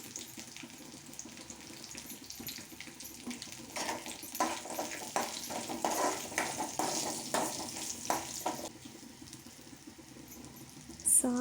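Asafoetida and turmeric being stirred in a hot pan for lemon rice, a soft sizzle with scraping and shuffling strokes that grow busier midway, moderately quiet with no talk.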